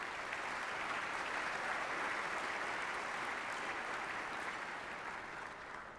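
Sustained audience applause at a downtown civic address in Sacramento, a steady, even roar of many hands clapping, moderately distant and fading slightly at the close.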